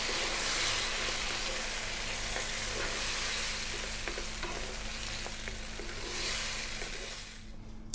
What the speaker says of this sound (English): Grab your 1 can of beans and just mix that around just for 2 minutes.